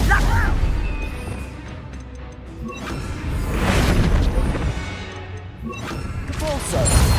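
The Confringo blasting spell in Hogwarts Legacy goes off in a loud crashing burst, followed by rumbling impacts and a second swelling blast, all amid busy combat noise.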